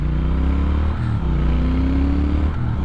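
A 2019 Triumph Speed Twin motorcycle cruising on a freeway, its engine a steady loud drone with wind rumble, heard from the rider's position.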